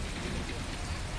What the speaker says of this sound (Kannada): ಆಲಿಕಲ್ಲು ಅಷ್ಟು ಪ್ರಮಾಣದಲ್ಲಿ ಆಲಿಕಲ್ಲು ಮಳೆಯಾಗಿದೆ